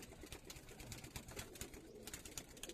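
A male pigeon of the old Giribaz breed, held in the hand at a loft, gives soft, faint repeated coos and rustles in a quiet space.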